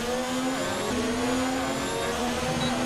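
F1 2019 racing game engine at the Australian Grand Prix in Melbourne, a loud, sustained high-revving Formula 1 whine that holds steady with slight pitch shifts throughout, no voices.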